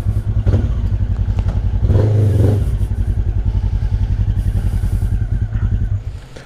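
A 125cc motorcycle engine idles loud and close with a rapid, steady throb, rising in a short rev about two seconds in and then settling back before fading out.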